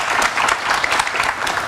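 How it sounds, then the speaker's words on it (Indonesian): Steady, dense applause from a studio audience on an Indonesian political talk show, sustained and fairly loud throughout with no break. "Tepuk tangan yang meriah untuk narasumber saya"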